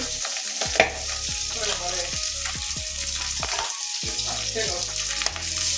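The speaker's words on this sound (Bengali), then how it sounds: "বাকি মাছগুলো ওইভাবেই ভেজে নেব" Pabda fish sizzling as it fries in hot oil, a steady crackle with sharp spits and pops, close and alone without talk.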